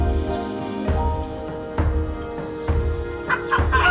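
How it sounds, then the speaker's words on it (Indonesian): Mini chickens cluck and murmur nearby at a zoo in Jantho, Aceh Besar, in a continuous low chatter, with a few sharper calls toward the end. "sekarang kita di sini ada ayam mini"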